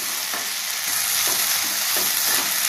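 Okra tempering fries steadily in a pan for a ladies finger curry, giving a continuous close sizzle with a few soft stirring clicks and scrapes and no talk.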